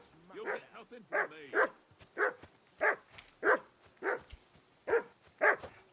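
A dog barks over and over in Kingdom Come: Deliverance 2, sharp, evenly spaced woofs at moderate distance with a few whimpering yips mixed in, and no talking over them.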